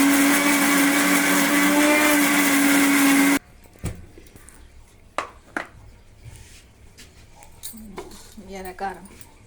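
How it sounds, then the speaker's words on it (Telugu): A mixer grinder roars at high speed grinding dried red chillies into powder, a loud steady whine lasting about three seconds before cutting off abruptly, followed by faint clinks and a voice speaking. "Mixie on."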